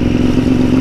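A motorcycle engine idles steadily and loudly close by right after starting, a continuous low rumble with a faint mechanical clatter and no talking.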